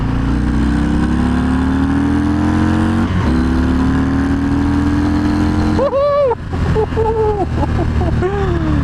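A 2020 Harley-Davidson FXDR 114 pulls away loudly, the engine note rising steadily through the gears with a brief dip at a gear change, then wavering rev swells near the end.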